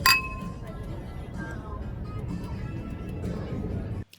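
Glasses clink together in a toast at the start of an evening meal at a waterfront restaurant on Bell Harbor, one bright chime that fades under a steady murmur of restaurant chatter and background noise.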